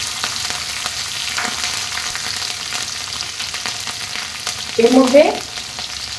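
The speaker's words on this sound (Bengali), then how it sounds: "এখানে তেল গরম হয়ে গেছে, আমি দুটো শুকনো লঙ্কা ফোড়ন দিয়ে দিলাম, একটু কালো জিরার ফোড়ন দিয়ে দিলাম" Dried red chilies and black cumin hit hot mustard oil with a steady, close crackling sizzle, joined near the end by a short clatter of stirring and a brief spoken phrase.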